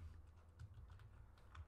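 Short burst of quiet, close computer keyboard typing while a project name is entered in GNS3 network software, with irregular light key taps and no voices.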